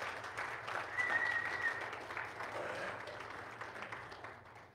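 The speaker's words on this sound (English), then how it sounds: "Will you welcome both our guests and our online campus with a hand clap?" An audience at a church service gives a sustained round of hand-clapping applause, moderately distant and steady throughout, slowly tapering toward the end.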